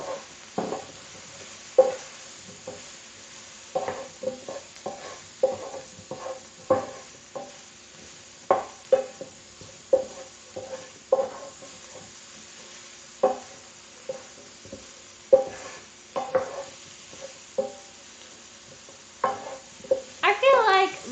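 Food frying in a pan at home, a steady sizzle broken by repeated stirring scrapes and clatters roughly every second, with occasional faint voices in the background.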